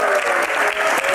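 An audience at a Q&A session with a singer applauds after the host's call to clap for him, a brief, dense burst of clapping that fills the room steadily with no voices on top.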